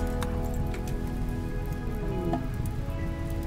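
Steady rain falls over a colony in the video game Rimworld, an even hiss of patter running unbroken throughout, with faint sustained tones beneath.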